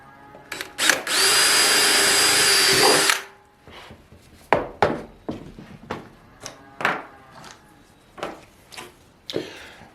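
A power drill whines loudly in one long burst while boring holes into a plastic rain barrel, followed by a series of short, sharp clatters and knocks.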